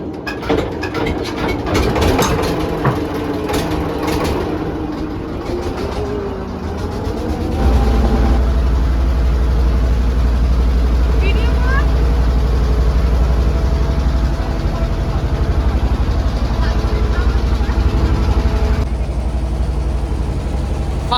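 A river launch's engine runs at Taki with a steady low rumble and drone that grows stronger partway through, with broadband noise and some clattering early on.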